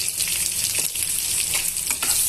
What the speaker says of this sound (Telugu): ఇందులోనే ఒక రెండు ఉల్లిపాయలు కట్ చేసి పెట్టుకున్న ఉల్లిపాయ ముక్కల్ని వేసేస్తున్నామండి